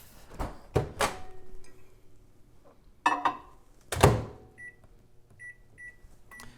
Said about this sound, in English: We're going to warm this up in the microwave.